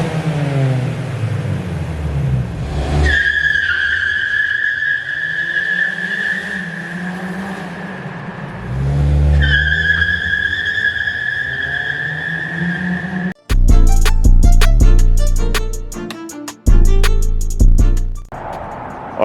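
A Mazda 3 fitted with a Corksport axle-back exhaust revs loudly and up close, two long rising-and-falling revs followed by sharp, punchy blips of the throttle.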